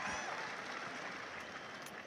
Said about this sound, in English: the crowd's getting behind him now